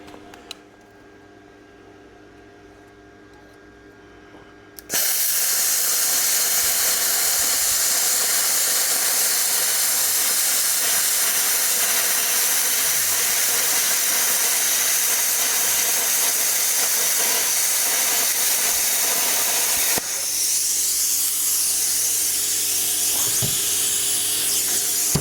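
Arccaptain Cut 55 plasma cutter slicing 3/16 steel at 50 amps along a cutting guide: a loud, steady roaring hiss starts abruptly after a quieter hum and runs continuously for about fifteen seconds, then shifts slightly in tone near the end.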